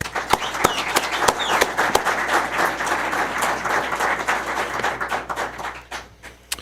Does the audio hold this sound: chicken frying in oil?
no